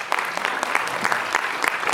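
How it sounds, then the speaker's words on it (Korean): An audience at a youth job-mentoring talent-donation concert breaks into a steady round of applause, dense overlapping claps close and loud throughout, with no voices over it. "박수 부탁드리겠습니다."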